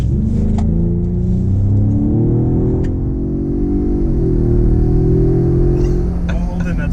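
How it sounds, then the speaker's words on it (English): A Ford Raptor pickup truck accelerating, heard from inside as a loud steady engine rumble whose pitch rises and shifts through the gears over several seconds, with a faint voice briefly in the background. "We're gonna give it a little gas. We'll get her up to speed,"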